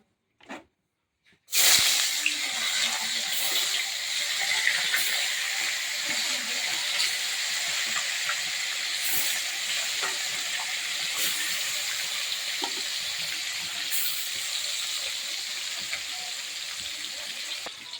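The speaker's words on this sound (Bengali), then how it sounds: "মাছের এক পিঠ ভাজা হয়ে গেছে" Fish frying in hot oil in a home kitchen: after a brief quiet start, a loud, steady sizzle and crackle holds for the rest of the clip, with no talking over it.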